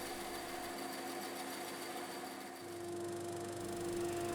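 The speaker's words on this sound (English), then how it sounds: "I'm cutting out the outside shape on the bandsaw, but I'm not cutting to the line" A bandsaw runs steadily while cutting the outside shape of a wooden domino-set piece, a constant motor whine with a buzzy blade tone that shifts slightly partway through, close and continuous with no talking.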